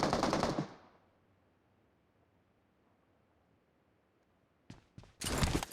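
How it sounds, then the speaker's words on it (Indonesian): Bursts of rapid SCAR-L rifle fire from a video game: a loud volley at the start, near-silence, then a few sharp shots and another heavy burst. "ada tembakan menggunakan Scar L"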